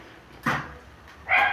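A female dog at a house under construction gives two short barks about a second apart, nearby and fairly loud against a quiet background, with no talk.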